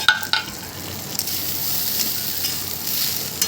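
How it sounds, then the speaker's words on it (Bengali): Fried potatoes are stirred in a hot pan for Bengali murighonto, a steady close sizzle with a couple of sharp spatula scrapes at the start, then continuous frying hiss. "এবার এর মধ্যে দিয়ে দেবো ভেজে রাখা আলুগুলো আরেকটু নেড়ে নেবো"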